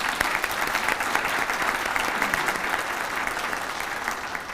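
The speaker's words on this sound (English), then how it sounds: "Let's all give them a round of applause." A full audience round of applause at a university fall convocation, loud and continuous, slowly tapering toward the end.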